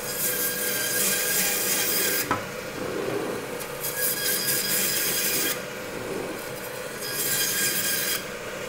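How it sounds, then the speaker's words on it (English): Vertebrae are cut off a beef strip loin with long, harsh rasping strokes in sustained bursts that pause and resume, close and fairly loud with no talking. "Now we're going to cut the vertebrae off."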